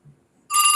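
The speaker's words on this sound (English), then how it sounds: "That's a phone." Telephone ring bursts in abruptly after a brief faint low thump, a bright electronic tone continuing loud and close for the rest of the moment.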